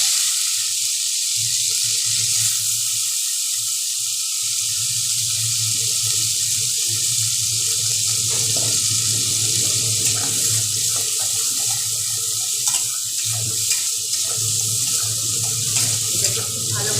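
Chopped medium-sized onion frying in a pan over medium heat, a loud, continuous hiss that holds steady for the whole stretch, with faint scrapes and no talking.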